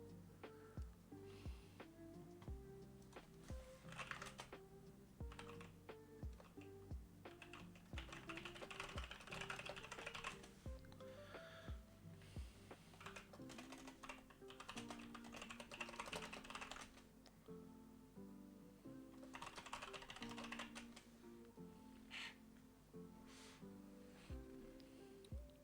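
A computer keyboard clatters with fast, continuous typing, a dense stream of keystrokes and occasional heavier bursts, quiet and steady throughout with no talking.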